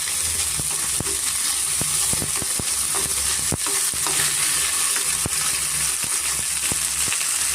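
Chicken in garlic butter fries in a pan, a steady close sizzle with occasional clinks and scrapes from stirring, no voices.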